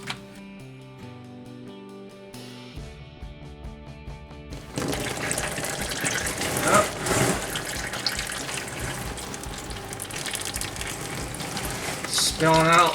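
Transmission fluid spills from the pan of a 1995 Jeep Grand Cherokee's 42RE transmission. A tonal start gives way to a continuous close splashing pour that swells toward the end, with faint voices.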